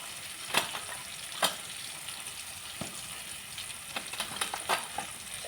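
Turmeric and cumin crackle and sizzle in hot oil in a frying pan, a steady fizzing bed with a few sharper pops and stirring clicks scattered through, close and moderately quiet, with no voices.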